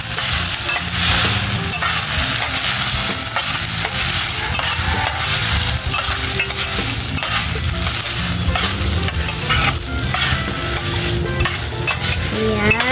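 Hotdog pieces stirred into creamy spaghetti in a frying pan, a steady loud sizzle with a spatula scraping and clattering against the pan throughout, no talking.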